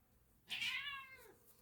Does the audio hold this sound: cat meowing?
yes